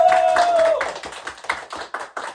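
An audience claps at an awards gala, the applause spreading into irregular claps that thin out and grow sparser toward the end. A held musical tone sounds under the opening moments.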